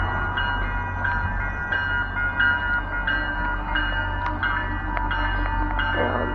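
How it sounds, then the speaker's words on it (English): MBTA Purple Line commuter train at Norfolk station, a steady loud rumble of railcars rolling past close by with faint clanks and squeals over the continuous low roar. "and there goes the train"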